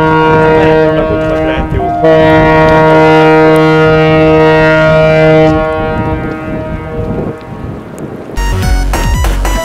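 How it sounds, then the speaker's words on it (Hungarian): A large ship's horn in Reykjavik harbour sounds loud and sustained, with a deep harmonic-rich blast that holds for several seconds before fading. A sharp clatter of nearby noise follows at the end. "Az épület szomszédságában hatalmas hajók sorakoznak, ott jártunkon szólalt meg épp az egyik kürtje, amit én eddig csak filmekben hallottam."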